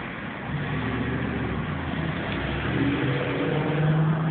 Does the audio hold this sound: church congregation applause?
no